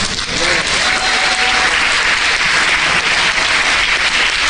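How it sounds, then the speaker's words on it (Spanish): Sustained applause from a church congregation during a sermon, dense steady clapping filling the whole stretch at close range with no voices over it. "Un aplauso al Señor"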